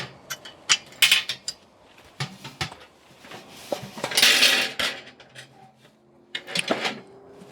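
Metal legs being fitted onto a Red Mountain Valley wood burning stove, a string of sharp metallic clanks, taps and rattles, close and irregular with brief pauses.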